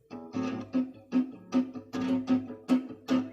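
An acoustic guitar strums an accompaniment pattern with a complex rhythmic effect, sharp down-and-up strokes in a steady, choppy pulse of about nine hits, close and clear with no talking.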